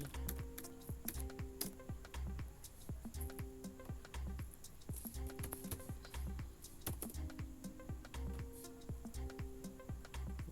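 Steady, fast typing on a computer keyboard while writing Java code in NetBeans, with dense clicking keystrokes in irregular bursts running continuously and close up, no talking.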